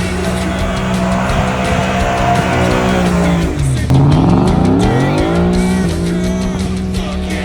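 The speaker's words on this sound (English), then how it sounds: "You know what I can do though? Is some burnouts." A car does burnouts with loud squealing tires over a roaring engine that swells and dips in pitch, close and continuous, with a brief voice heard underneath.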